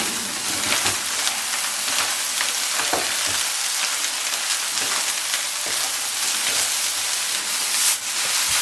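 Onions sizzling and frying in hot oil with Lao Gan Ma chili sauce, a steady loud crackling hiss with occasional stirring scrapes, close and continuous with no voices.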